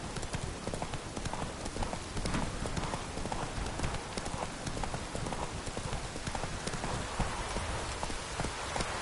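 Roach, the horse in The Witcher 3: Wild Hunt, galloping: rapid, continuous hoofbeats with a dense, rain-like patter running underneath, fairly loud and constant.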